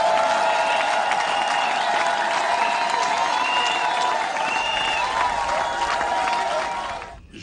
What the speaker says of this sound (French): Je demande à toute l'assistance d'applaudir